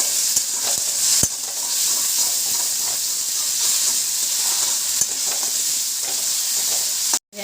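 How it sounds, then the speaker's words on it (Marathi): Ginger, garlic and tomato paste fries in a pan for masala paneer bhurji, hissing with a dense, steamy sizzle and a few sharp stirring clicks, loud and close until it cuts off abruptly at the end. "अद्रक लसूण आणि टोमॅटोची पेस्ट बनवलेली, ती 1 चम्मच टाकायची। चांगली भाजून घ्यायची"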